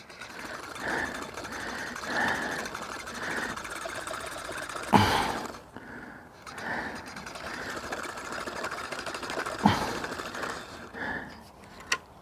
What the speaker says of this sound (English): You could not ask for a better result when filling that spool.